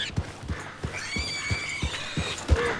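A video game horse whinnies loudly over rhythmic hoof clip-clops, close up, with no voices.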